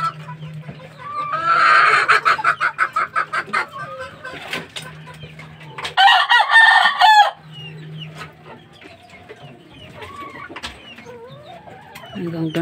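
Young rooster stag of a green-legged gamefowl breed crowing loudly twice nearby, with clucking and other birds in the background.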